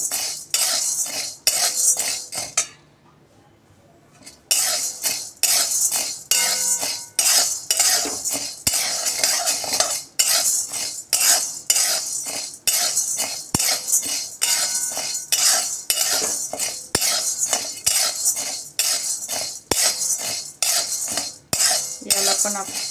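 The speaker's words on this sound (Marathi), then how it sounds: "याच्यामध्ये मग आपण याच्यामध्ये साबूचे तांदूळ आहेत ते भाजून घेणार आहे छान" Sago pearls dry-roasting in a pan, stirred constantly with a metal spoon, giving fast repeated scraping and clinking strokes with a short pause early on, loud and close with no talking.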